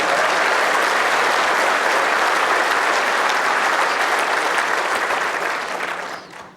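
A crowd applauding warmly at the 2015 World Bowls Championship, steady dense clapping that holds loud and then fades out near the end.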